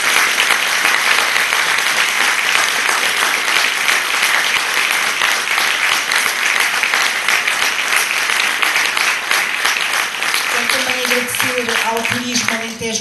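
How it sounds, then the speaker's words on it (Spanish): Audience at a live tango concert in Alter do Chão gives sustained, loud applause that continues at an even level, with a voice and faint music emerging near the end. "Muito obrigada, uma salva de palmas."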